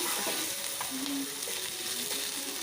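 Mustard seeds hit hot oil for a tadka tempering in a home kitchen, giving a quiet, steady sizzle with faint crackles and a brief tonal squeak partway through.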